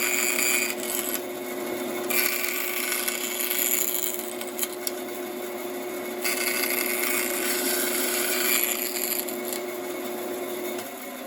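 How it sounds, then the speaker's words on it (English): A power saw cuts curved slices through wood during model making, with a steady close buzzing rasp that pauses and resumes in a few passes and no speech. "so I just did a couple curved slices there really quickly"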